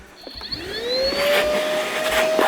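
A WORX WX031.9 cordless vacuum cleaner whirs steadily as its motor spins up to a high whine that holds through the rest of the moment, close and alone.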